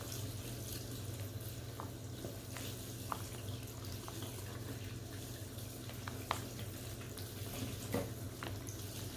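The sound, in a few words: water running over hair to saturate locs before washing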